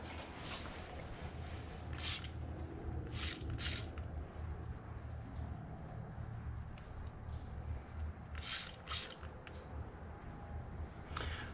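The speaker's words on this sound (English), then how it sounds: "We're gonna go ahead and spray some soapy water on it and see if any air bubbles start coming out." Soapy water is sprayed onto a plugged Jeep tire in a few short, hissing spray bursts that come in quick pairs, heard over a constant low background hum.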